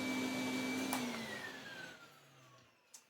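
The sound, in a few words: Sebo K3 Premium vacuum cleaner motor running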